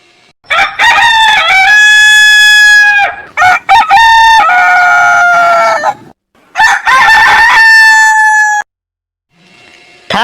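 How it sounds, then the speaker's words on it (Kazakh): A cartoon-style rooster crows loudly several times in a row, each crow a long, strained call followed by brief gaps, heard clearly with no other sound. "әтеш"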